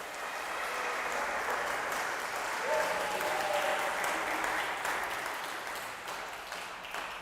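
A congregation applauds steadily during a church worship service, dense clapping holding at an even level for several seconds in a large reverberant room.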